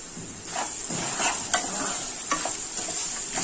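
Raw mango and rice mixture sizzles steadily in a pan while a spoon scrapes and stirs it in irregular strokes, close and fairly loud.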